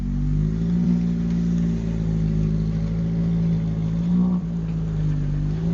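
A Honda rally car at the Monte Carlo Rally holds a steady, loud engine drone with a constant low hum and a slight rev dip near the end, no voices over it.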